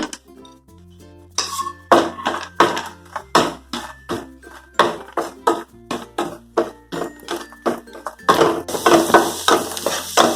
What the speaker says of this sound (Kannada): ಗೋಡಂಬಿ ದ್ರಾಕ್ಷಿ ಕರ್ಕೊಂಡ್ಬಿಡೋಣ